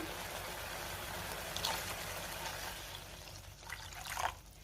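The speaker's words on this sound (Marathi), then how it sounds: "आता मी त्यामध्ये पाणी घालते" Water splashes and trickles steadily into a pot of oily curry masala, a soft continuous liquid pour with a couple of brief clinks, fairly quiet and close.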